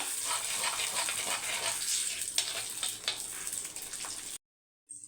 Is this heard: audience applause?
no